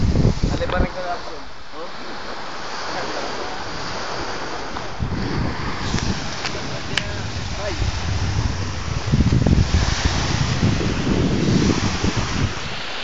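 Strong wind roars outdoors by the sea, buffeting the microphone in loud gusts while people talk over it.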